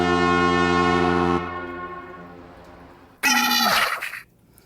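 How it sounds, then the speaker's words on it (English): In a video game, a long, loud blaring air horn blast cuts off and fades, followed after a pause by a second, harsher foghorn blast that drops in pitch. "he used an air horn and a foghorn to wake them up"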